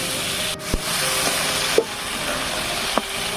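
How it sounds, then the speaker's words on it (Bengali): Fish fries in oil in a pan, a steady close sizzle with a few sharp clacks of a utensil against the pan. "তেল দিয়ে দিচ্ছি, দিয়ে সবগুলো মাছ দিয়ে ভালো করে ভেজে নিচ্ছি"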